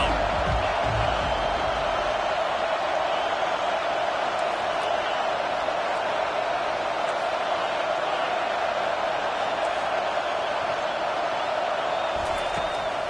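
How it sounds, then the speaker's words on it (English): A stadium crowd in an NCAA college football video game roars steadily on a third-down defensive stand, a dense, loud, unbroken wall of cheering. "Decibels rising as the crowd gets behind this defense on 3rd down."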